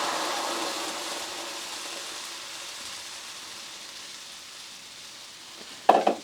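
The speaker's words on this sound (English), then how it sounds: "Gonna let that simmer for just a little bit." A sauce simmers in a pan with a soft, continuous sizzle that slowly fades, then a sharp utensil clatter sounds near the end.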